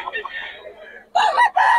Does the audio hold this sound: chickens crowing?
yes